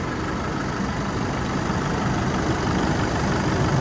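A Trailblazer's engine idles with a continuous low rumble, loud and close, holding an even level throughout with no voices.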